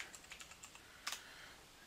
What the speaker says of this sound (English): I'm typing in the name of the VM that we are working with here.